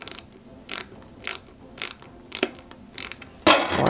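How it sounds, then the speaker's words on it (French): Small screw being turned into a Peugeot 205 GTI 1.9 die-cast model kit part, giving a series of about seven crisp, close ratcheting clicks at a steady rhythm, alone and quiet between turns. "on visse"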